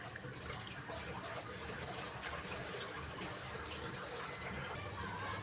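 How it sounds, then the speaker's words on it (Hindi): Washed mash lentils are poured into water in a cooking pot, giving a continuous soft, faint gushing and splashing of liquid with no talk. "अब हम दाल अच्छे तरीके से पानी के अंदर डाल देंगे।"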